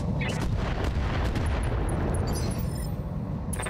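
Heavy, dense weapon fire in the BattleTech RogueTech video game, a Gauss rifle shot booming amid continuous rumbling explosions that fill the whole stretch at steady high loudness.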